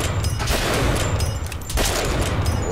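A rapid burst of gunfire and a rocket launch in Bioshock Infinite, loud and dense with overlapping shots and booms throughout, no talking.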